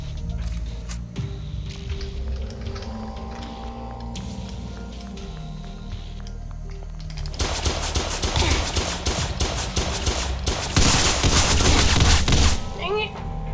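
Gunfire in the SCP: Roleplay video game, with scattered shots early on giving way to a dense, loud burst of rapid automatic fire in the second half, all layered over game background noise.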